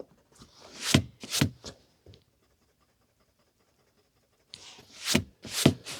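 Gentle rubbing strokes clean pencil marks off a vintage Collins book, arriving in two close bursts of three to four quick brushing passes separated by several seconds of near silence.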